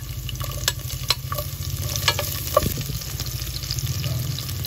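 Sliced onions dropped into hot oil where garlic has already fried golden, bursting into a loud crackling sizzle with scattered clinks and stirring scrapes, a low hum underneath and no speech.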